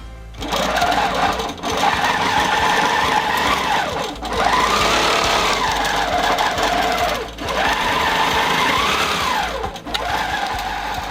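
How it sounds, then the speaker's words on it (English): A longarm quilting machine stitches across a quilt with a steady, loud mechanical whir whose pitch rises and falls in repeating sweeps as the head moves, briefly dipping a few times between passes. "So it is now actually stitching the second row of my quilt."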